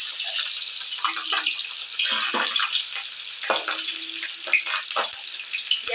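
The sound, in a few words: green chillies frying in fish oil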